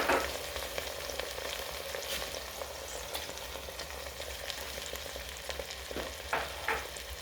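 Sausage with blended and chopped tomatoes sizzles steadily in a pan while being mixed, a constant frying hiss broken by scattered scrapes and soft knocks of the spoon, louder at the start and near the end.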